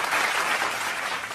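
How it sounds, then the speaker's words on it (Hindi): Dense audience applause fills a brief moment at a Hindi poetry recital, a loud continuous wash of many hands clapping together. "जोरदार तालियों से आप उनका सम्मान करें।"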